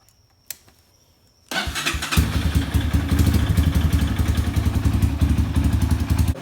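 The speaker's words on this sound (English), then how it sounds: "now we're going to start the engine up, let it idle for about 2 minutes" After a quiet pause and a single click, a Honda CRF230F dirt bike engine cranks and fires, then settles into a loud, steady, close-up idle with a rapid, even thump.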